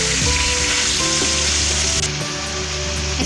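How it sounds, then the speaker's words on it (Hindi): Mixed vegetables, including capsicum, fry in a pan with a loud, close sizzle and scattered crackles, steady throughout with a slight shift partway through, no talking. "इसको हम थोड़ी देर भून लेंगे"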